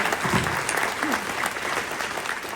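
Moderate applause from an audience at a UN Day 2025 event in Copenhagen, a short run of steady clapping with a few faint voices underneath.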